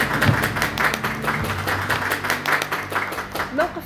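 An audience applauding, a dense, continuous wash of clapping at an even level throughout, with a voice heard faintly near the end.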